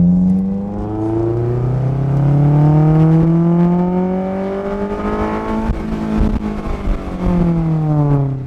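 Honda S2000 with its muffler deleted pulls hard in second gear on a side street, a loud raw exhaust note whose engine pitch climbs steadily for several seconds, dips at a shift-like break, then rises again, with no voices.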